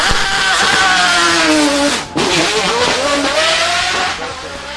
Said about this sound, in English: Most racetracks have a 110 decibel noise limit, which the Zonda R breaches